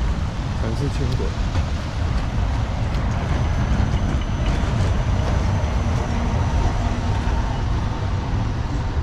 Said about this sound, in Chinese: 是轻轨